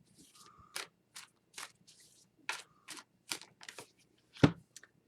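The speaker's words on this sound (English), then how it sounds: "going to give that another shuffle" A deck of tarot cards is shuffled in short, crisp bursts, a series of soft riffles and slaps spaced irregularly, fairly quiet and close with no talking.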